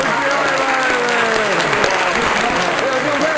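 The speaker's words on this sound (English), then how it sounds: "Let's have a clap for Gary" A television studio audience claps for a visiting guest from Hollywood, a steady, dense round of applause throughout with a voice speaking over it.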